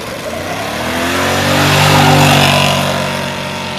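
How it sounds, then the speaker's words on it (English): A Chevrolet Nova engine revs hard and loud up close, the roar swelling to a peak and then easing back down. "My neighbor Andy's got this Nova, it looks like hell, but it also goes like hell."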